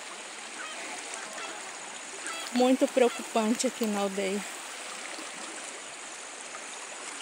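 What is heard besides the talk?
strong river current rushing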